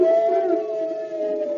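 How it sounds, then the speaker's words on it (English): Hounds in a vintage radio drama let out a sustained, wavering howl, steady and fairly loud, with no talk over it. "There's a whole pack of horrible hounds."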